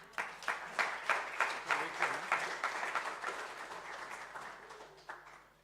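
A small audience at a higher-education teaching conference gives a short round of applause, a cluster of distinct, fairly close claps in loose rhythm that thins out and fades over several seconds with no speech over it.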